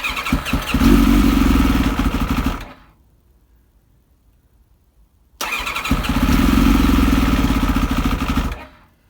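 Kawasaki ZX7R motorcycle engine after a year of storage, running loudly for two bursts of about three seconds each, separated by a short silent pause.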